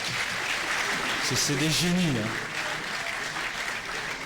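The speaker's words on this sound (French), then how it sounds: "On peut les applaudir, c'est" Award winners receive applause from a ceremony audience, a steady broadband patter throughout, with a voice speaking briefly over it in the middle.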